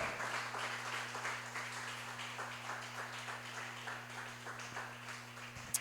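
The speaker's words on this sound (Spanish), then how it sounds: "Dele ese aplauso al Señor." Church congregation at an Assemblies of God service applauding, a soft, distant wash of scattered clapping over a steady low electrical hum, fading gradually with a sharp tap at the very end.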